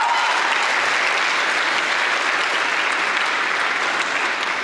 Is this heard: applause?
yes